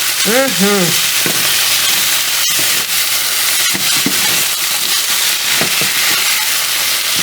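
A pork chop fries in a hot pan, giving a steady loud sizzle and crackle throughout, with a few brief clinks of utensils against the pan.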